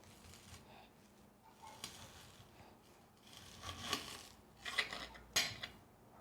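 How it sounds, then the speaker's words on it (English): A kitchen knife chops half an onion on a cutting board, giving a few faint, irregular taps and crisp slices that grow slightly louder toward the end. "So I'm going to cut up an onion"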